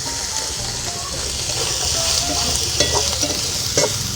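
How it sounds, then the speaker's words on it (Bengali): Rui fish head stirred with spices in a hot frying pan, a steady loud sizzle with scraping stirs running throughout, close by and without talk. "মাথাটা এবার আমি এর মধ্যে দিয়ে দেবো, দিয়ে ভালো করে নেড়ে দিচ্ছি আবারও।"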